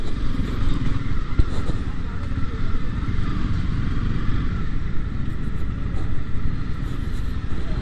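A Honda CB300R motorcycle climbs uphill, its engine and airbox induction giving a steady, close, continuous drone and rumble that holds even throughout, with no speech over it.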